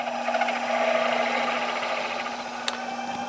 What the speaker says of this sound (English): I want to drill to about 3/8 of an inch.